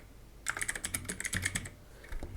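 Quick burst of keystrokes on a computer keyboard entering commands, about a dozen crisp clicks in rapid uneven rhythm, close and fairly quiet, then a lone tap near the end.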